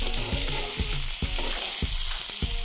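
Fried potatoes get stirred into eel fish curry in a hot pan, with a steady sizzle and a spoon scraping and knocking against the pan in a regular rhythm.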